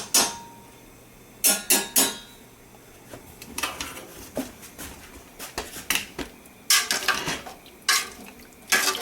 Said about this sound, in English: Just keep stirring it so it doesn't burn.